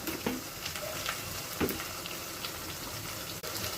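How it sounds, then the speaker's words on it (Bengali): Ground spices with ginger-garlic paste and onion paste frying in hot oil, a steady close sizzle with a few soft stirring scrapes, no talking. "এবার আমি তেলের মধ্যে মশলাটা কিছুক্ষণ ভেজে নেব"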